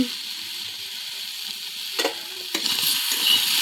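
Fish sizzles in hot oil in a pan, a steady close frying hiss with a few brief clatters from stirring near the end.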